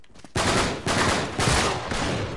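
Gunfire in the action video game Uncharted 3: Drake's Deception, a burst of loud, close shots in quick succession with a rough, roaring tail between blasts.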